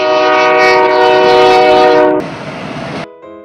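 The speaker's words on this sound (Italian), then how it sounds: "Vedrai, ora troveremo il treno." A train horn sounds loudly and steadily for about two seconds over the rumble of a passing train, then cuts off, leaving rail noise and a brief fainter tone at the end.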